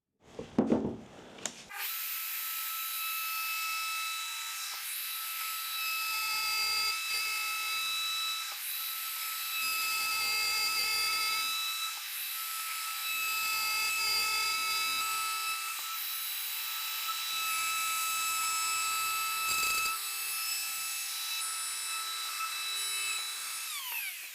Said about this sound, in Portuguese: Então agora vou fazer esse corte com a tupia.